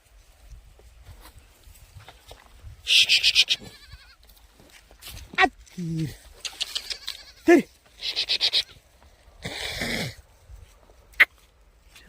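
Goats bleat repeatedly nearby while grazing on a farm, a series of wavering cries in short bursts separated by quiet gaps, with faint rustling between.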